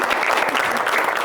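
A studio audience on an Amharic Saturday afternoon game show applauds in a brief, loud, dense burst of clapping.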